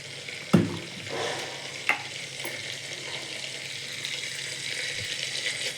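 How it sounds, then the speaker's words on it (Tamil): Sesame oil poured into a clay pot heating on a stove, giving a soft, steady hiss with a sharp clink near the start and a few faint knocks. "எண்ணெய் ஊற்றிக்கிறேன் நான் நல்லெண்ணெய் தான் சேர்க்குறேன்"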